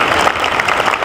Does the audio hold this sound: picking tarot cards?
no